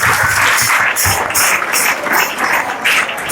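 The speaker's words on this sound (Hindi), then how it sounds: "चलो बढ़िया, जोरदार तालियां रुद्र के लिए।" Loud, steady applause for Rudra from a group, dense clapping with no talk over it and a few brief surges in intensity across the few seconds.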